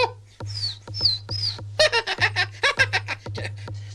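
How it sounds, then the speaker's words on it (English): A cartoon bird in a Disney Sunday movie calling out in quick, chattering squawks and tweets, loud and close, forming a rapid run of sharp bursts after a few rising whistles. "That stupid bird keeps interfering."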